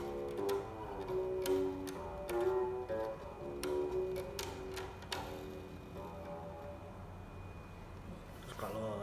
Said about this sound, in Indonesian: Suara yang teman-teman dengar langsung dari bass karena belum dicolok pakai ampli.